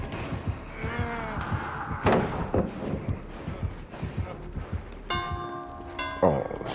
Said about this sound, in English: Oh, so he'll be ringing a bell.